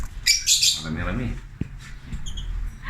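Lovebirds in an aviary chirp and squawk in quick bursts, several calls close by against a quiet background with a few soft knocks.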